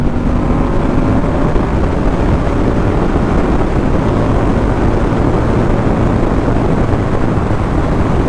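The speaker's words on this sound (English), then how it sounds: "This is a fast motorcycle." A Moto Guzzi V100 Mandello motorcycle ridden fast, a loud, constant engine roar blended with heavy wind rush, steady throughout without speech.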